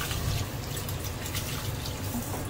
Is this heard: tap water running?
yes